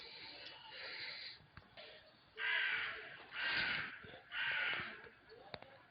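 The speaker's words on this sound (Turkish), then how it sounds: "kargalar haber veriyor." Several harsh crow caws ring out in a row, three stronger calls in the second half, moderately distant over quiet outdoor ambience.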